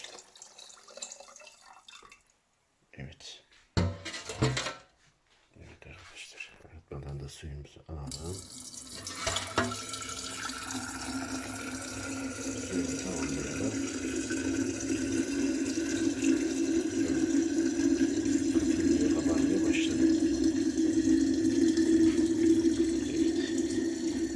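Purified water pours into a jar of grape pickles, a steady, close trickle that builds into a continuous splashing fill after a few scattered knocks and handling sounds at the start.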